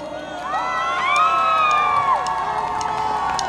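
A festival crowd at a live orchestra performance in Peru cheers and shouts, its bright whoops rising and falling over a steady din, with one voice standing out in a long call above the rest.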